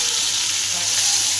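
Fish fries in a pan with a steady, bright, close-up sizzle that hisses evenly without a break.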